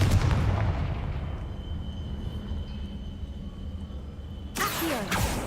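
A Confringo blasting spell going off in Hogwarts Legacy, a heavy low rumbling boom that decays into a long roaring tail, then a sharp burst of crackling impact near the end; no speech.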